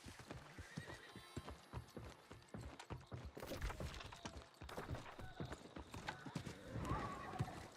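Rapid, fairly close clip-clop of horse hooves from a video game, with a neigh near the end and faint speech in the background.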